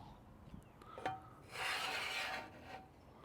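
A scraper rasps across a metal griddle in a few strokes, with one longer, louder scrape in the middle; quiet and close.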